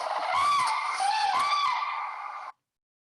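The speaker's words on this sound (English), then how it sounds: "that was some kind of bird" A bright, warbling call with wavering pitch, continuous for about two and a half seconds before stopping abruptly.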